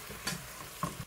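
Chicken is stirred into a seasoned sauce of sugar, cooking wine, chili flakes, water and minced garlic in a pan. A soft, steady simmering bed sounds beneath two or three brief scraping stirs, quiet and close.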